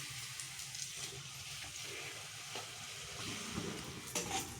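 Egg puffs fry in a pan of oil, giving a steady low sizzle that runs under a faint stirring and clinking, with no talk.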